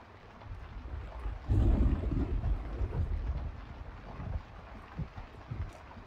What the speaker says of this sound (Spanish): Está lloviendo más intensamente.